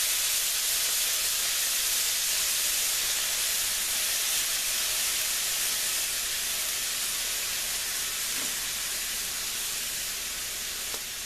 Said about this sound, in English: And some fresh squeezed lemon juice. And that's going to steam it.